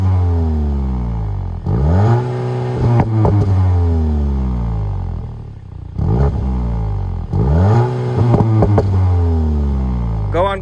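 Two strong revs of a Volkswagen Golf GTI Clubsport engine in sport mode, each climbing sharply and falling back, with crackling pops and rumbling idle between them, close and loud.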